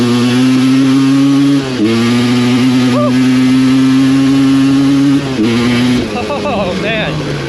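A Suzuki LT250R ATV engine howls loudly and close under hard acceleration, a sustained high buzzing drone with brief dips at gear shifts before climbing again.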